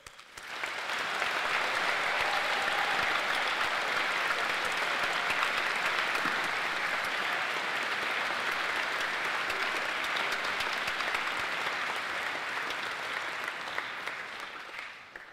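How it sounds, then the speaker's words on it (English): Sustained, loud applause from a large crowd at a school concert, a dense roar of clapping that holds steady for the whole stretch before easing slightly at the end. "the biggest round of applause, without a doubt, goes to the boys and girls behind me"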